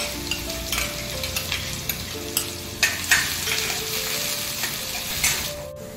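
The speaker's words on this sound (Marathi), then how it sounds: "त्यानंतर लसणाच्या पाकळ्या, बारीक चिरलेला कांदा छान परतून घ्यावा" Cumin, mustard seeds, garlic cloves and finely chopped onion sauté in hot oil for a Maharashtrian drumstick-leaf bhaji, a steady close sizzle broken by scraping stirs and a few soft clinks of the spoon.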